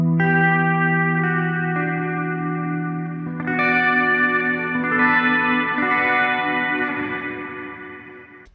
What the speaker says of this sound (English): This pedal is obviously a delay pedal primarily